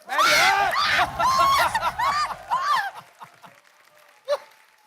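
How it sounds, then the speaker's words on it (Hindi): A studio audience claps for Neha Kakkar and Rohanpreet arriving on a Hindi TV comedy show, the dense clapping running under loud excited shouting and voices before fading out within a few seconds. "जोरदार तालियां इनके लिए"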